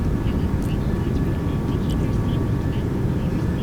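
Airbus A340 engines at climb thrust in the X-Plane 12 flight simulator, a steady, even jet roar holding throughout with no change in level.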